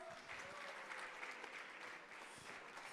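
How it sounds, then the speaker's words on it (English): A summit audience gives a round of applause, a dense, even patter of many hands clapping throughout, moderately distant and fairly soft. "Another round of applause."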